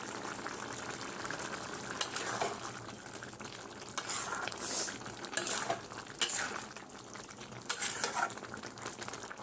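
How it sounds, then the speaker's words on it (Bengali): A covered pot of jackfruit curry bubbles at a steady boil, with soft continuous simmering broken by a few sharp clinks of a spoon or lid against the pot. "জল দিয়েছি, ফুটছে"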